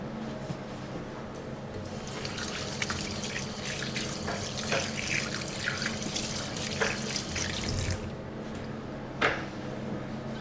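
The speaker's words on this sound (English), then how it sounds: "I wash my hands and I come back in a few minutes" Tap water runs in a steady broadband rush into a sink during handwashing in a kitchen, with occasional splashes and small knocks, constant level and close, no talking.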